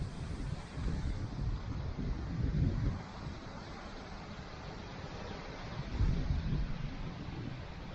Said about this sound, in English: She's blowing a gale this morning